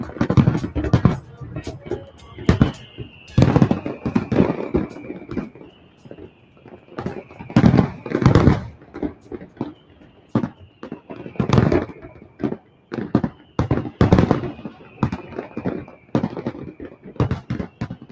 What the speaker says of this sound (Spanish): Suenan los fuegos artificiales